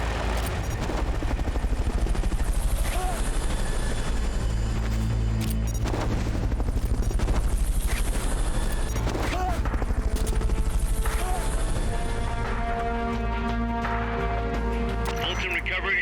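A recovery helicopter in Metal Gear Solid: Peace Walker thrums with a loud, continuous low rotor drone, layered with rapid bursts of gunfire and booms throughout, with game voices occasionally speaking over the din.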